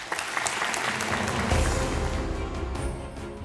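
Audience applause fills a Quran recitation contest hall, a dense steady clapping that holds for several seconds at close, full volume.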